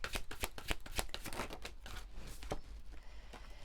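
Tao oracle cards are shuffled during a full-moon reading, giving a close, rapid riffling flutter of card edges that is dense at first and then loosens into softer, scattered shuffling.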